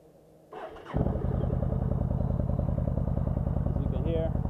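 A Yamaha V-Star motorcycle cranks and catches near the mic, then settles into a loud, steady, throbbing idle that runs through to the end.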